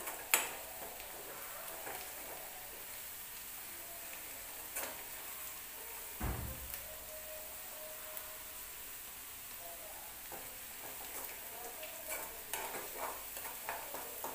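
Chopped onions frying in a pan while cooking a chicken dish, a faint steady sizzle with occasional stirring scrapes and light clinks of a spoon, quiet and close, no talking.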